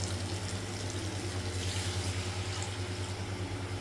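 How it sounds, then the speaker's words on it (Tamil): Tamarind water pours steadily into a curry pot of elephant foot yam gravy, a soft continuous liquid splash under a low, even hum. "புளி கரைச்சலை ஊற்றிக்கலாம்"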